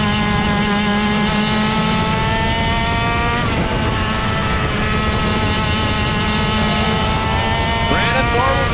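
Race cars roar around a track in a steady, loud engine drone, several cars close together battling for position, the pitch shifting slightly as they pass near the end.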